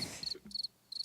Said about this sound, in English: All right, crickets.